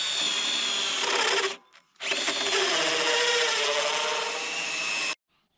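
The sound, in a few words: power drill drilling through wooden rafter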